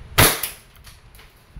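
A single sharp pop from a WE Glock 17 F-Series semi-automatic airsoft pistol, loud and close, followed by faint clicks and quiet handling.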